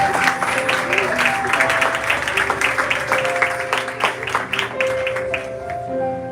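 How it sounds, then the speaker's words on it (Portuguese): Church congregation applauding during a worship service, with dense sustained clapping mixed with crowd voices and sustained background music tones throughout. "E você diz, assenta aplaudindo a Jesus de Nazaré."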